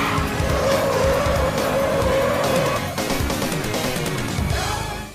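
Arcade racing game audio from Sega's 1992 Virtua Racing, with a loud, steady race car engine drone and sustained tire squeal. The squeal is strongest in the first half, then the engine carries on alone.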